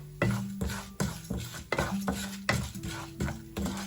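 Half a spoon of fenugreek seeds stirred with a spoon in a hot frying pan while spices fry for sambar: repeated scraping strokes of metal on the pan in a steady rhythm, with light sizzling beneath, close and clear.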